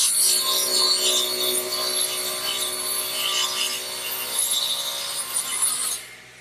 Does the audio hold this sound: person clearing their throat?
no